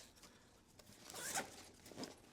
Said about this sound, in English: these compression straps are getting in the way when I'm trying to open the zipper